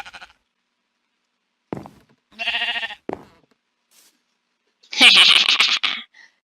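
Sheep from the video game Minecraft bleat several times in short, clear calls separated by pauses, close and loud with no talking.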